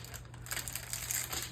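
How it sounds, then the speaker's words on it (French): Protective paper being peeled off a diamond painting canvas, giving a steady close crinkling, crackling rustle that runs without pause, no talk. "on enlève le papier,"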